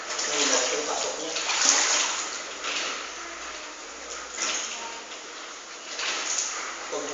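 Floodwater from a typhoon and monsoon rains rushes and splashes in through an opened door, a continuous swelling gush with surges and a few knocks, faint voices in the background.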